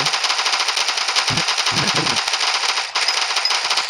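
Rapid automatic weapon fire from a Minecraft Bedrock gun mod, a dense continuous burst of shots filling the whole stretch, loud and close, with low thumps of impacts mixed in and no talk.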